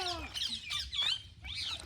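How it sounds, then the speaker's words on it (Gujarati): Harsh parrot squawks, several short raspy calls in a row, loud and close, with a faint low rumble of background noise underneath and no talking. "તમે સાંભળતા છો કેવો પોપટનો અવાજ આવે છે જો"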